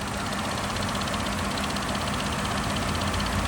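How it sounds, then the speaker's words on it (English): A Cadillac DTS V8 engine idles steadily up close, a continuous low rumble with a smooth, even hum and no voices. "Let me let you hear the engine real quick."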